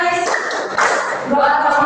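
A classroom group claps in a quick rhythmic pattern for the Tepuk PPK clap chant, voices chanting along over the short burst of claps.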